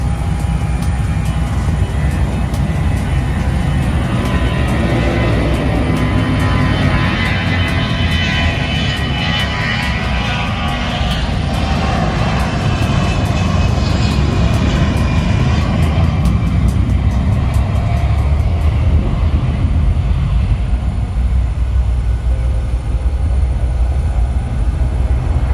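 An aircraft lands at a very short airfield in Madeira, a loud, continuous engine roar with broad rushing noise that stays close and steady for the whole stretch, with no voices.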